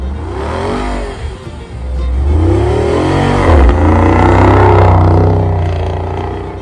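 A toy Jeep car's engine sound revs loudly and steadily, its pitch sweeping up and down in smooth waves for several seconds, close by with no talking.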